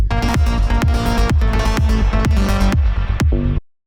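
The original aggressive synth lead from a track pulses in loud, rhythmic stabs over a punchy kick drum on each beat, then cuts off sharply into silence.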